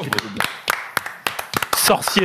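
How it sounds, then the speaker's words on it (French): A handful of sharp hand claps land in an uneven burst after a street game of bonneteau, close and loud, with a voice talking over and around them. "On peut applaudir, bravo."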